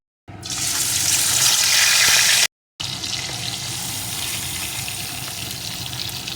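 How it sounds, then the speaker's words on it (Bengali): Salt-and-turmeric-coated koi fish dropped into hot mustard oil and frying, a loud, steady broadband hiss that breaks off briefly and then continues at a slightly lower level. "এখন এর ভিতরে আমি লবণ হলুদ মাখানো কই মাছগুলোকে দিয়ে প্রথমে ভেজে নেব"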